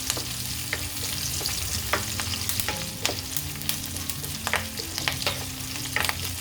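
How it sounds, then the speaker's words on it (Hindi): Curry leaves fry and get stirred in a hot pan, a steady close sizzle crackling throughout with repeated sharp scrapes and taps of a spoon, no voices. "इसमें डाल देते हैं करी लीफ, करी लीफ चलेगी इसमें, और 1-2 हाथ चलाते हैं इसे।"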